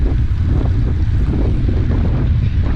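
Steady wind rumble buffets the microphone, a constant low roar with no talking, like blustery air on open water.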